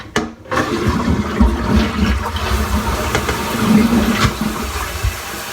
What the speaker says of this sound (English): And it's your first flush.